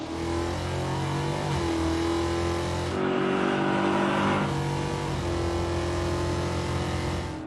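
A crop duster street machine launching on a drag strip on drag radials, its engine a loud, sustained roar that climbs through the revs with a brief shift-like change midway, heard alone without voices.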